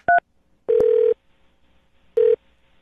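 Telephone keypad dialing tones sound as a few short, clean beeps separated by pauses, close and clear with no talking over them.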